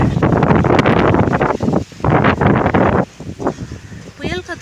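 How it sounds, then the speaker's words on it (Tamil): Strong stormy wind gusts roar across the microphone outdoors in the evening, a loud, rough rush that swells and drops in waves for several seconds. "புயல் காற்று மாரி அடிக்குது"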